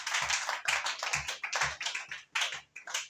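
Congregation at a church worship service clapping in steady rhythmic unison, about seven strong beats in three seconds, full and close with no talking.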